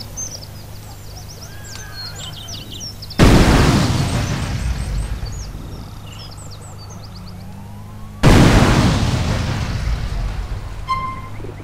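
Two grenade explosions in GTA San Andreas, each a sudden loud boom fading slowly over several seconds, with chirping birds and a low hum of ambience between the blasts.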